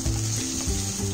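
Onions and capsicum stir-fry in a hot pan with a dense, steady sizzle and a low rumbling hum, brief and close.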